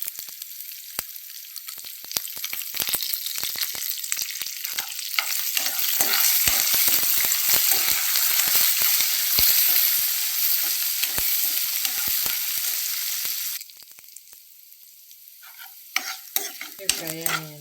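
Garlic, dried red chilies and curry leaves fry in hot oil with a steady, dense sizzle and repeated stirring scrapes, growing louder midway before the frying quiets and a few clinks sound near the end.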